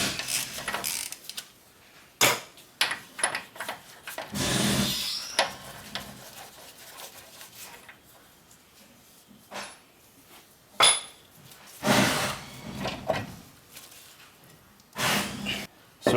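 Metal clanks and ratcheting clicks of a wrench working a 27mm spindle nut loose on a Ford E350 7.3L, in irregular close bursts with pauses between, some louder knocks and scrapes of parts.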